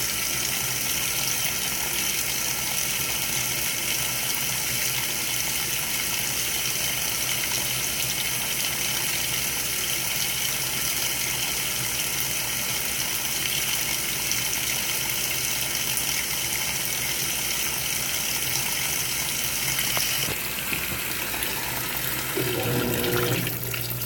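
Water gushes steadily into a washing machine on a deep-fill setting, a constant loud rushing stream that continues unbroken, with a shift in tone near the end as the flow changes.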